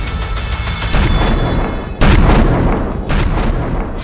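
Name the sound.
bomb explosions, three blasts in an attack in Prayagraj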